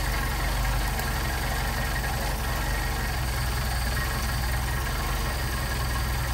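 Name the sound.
Mercedes 190SL engine idling during Solex carburetor adjustment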